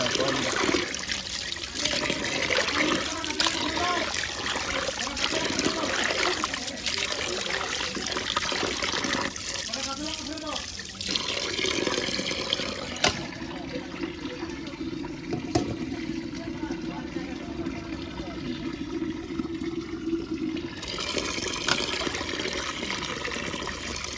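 A fish head is washed under running water, a continuous trickling and splashing flow close by, with people talking over it throughout.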